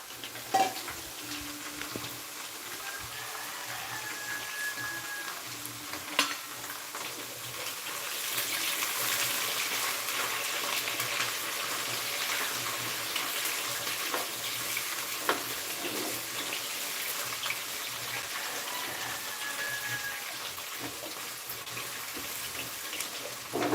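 Whole garlic cloves and vegetables fry in a pot over the stove's highest heat, giving a continuous broad sizzling hiss that grows slightly stronger partway through, with occasional faint utensil taps and no talking.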